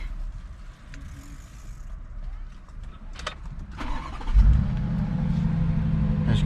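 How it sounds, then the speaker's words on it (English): A 2020 Bentley Bentayga fitted with a StarLine M66 immobiliser starts up: after some quiet clicks and shuffling, the engine cranks and catches with a loud surge, then settles into a steady, deep idle, close by. "So I'm just going to turn the car on now."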